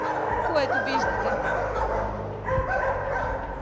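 A stray husky dog close by gives a series of barks, yips and whimpers spread across several seconds.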